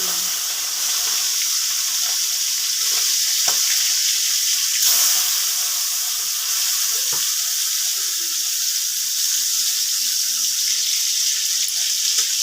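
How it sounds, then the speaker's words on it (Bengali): Shrimp frying in a pan of oil for a bottle gourd curry with fennel seed tempering, giving a steady, loud sizzling hiss with small crackles and occasional soft utensil scrapes throughout. "চিংড়িটা আমার মোটামুটি ভাজা হয়ে গেছে।"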